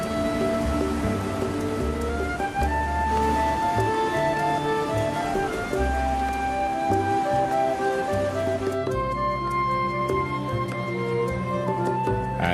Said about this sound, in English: Violent rainstorms are the harbingers of autumn.